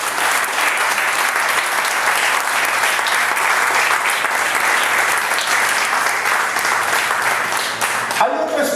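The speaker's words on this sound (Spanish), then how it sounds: "Ríndele fuerte el aplauso al Rey de Gloria." Church congregation gives loud, sustained applause during a Spanish-language service, dense clapping filling the space and continuing steadily before ending abruptly.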